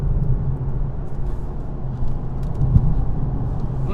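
A 2018 Infiniti Q50S Red Sport 400 AWD being driven fast into a corner, heard as a steady low engine and road rumble from inside the car, with no talking.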